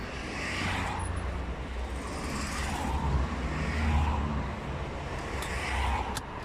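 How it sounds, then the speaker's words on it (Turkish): Steady road traffic with cars rolling past at moderate distance, a continuous broadband rumble that swells and eases as vehicles go by, with no voices. "Biraz trafikte başladık ama bakalım."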